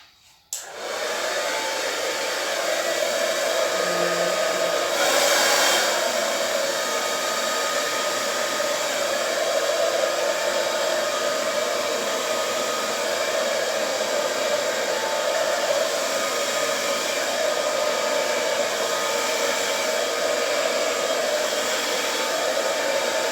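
A hair dryer blows continuously across a Dutch pour acrylic canvas, a loud steady whooshing roar that starts abruptly and holds without pause for over twenty seconds, alone with no talk.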